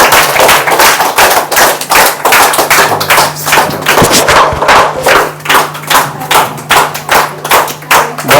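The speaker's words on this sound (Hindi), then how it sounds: "आपकी जोरदार तालियों के बीच में बुलाने जा रहा हूं मिस्टर खेमराज गिरी सर" An audience at an indoor business plan event claps and thuds loudly in a steady, rhythmic beat, close and sustained with no talk over it.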